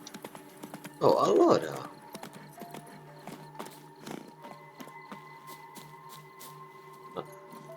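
Horse hooves clip-clop at a steady walking pace in The Witcher 3, with a brief snort or whinny near the start. Someone speaks briefly over the faint, evenly spaced footfalls.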